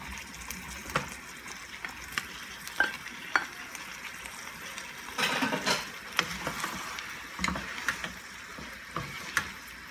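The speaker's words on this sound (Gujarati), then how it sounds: "હવે આપણે નાખી દઈશું અંદર આપણું ચિકન." Chicken stir-frying in a pan for Shanghai chicken gives a soft, constant sizzle, broken by irregular scraping and tossing strokes, with a busier flurry of stirring partway through. Close and moderately quiet, with no talking.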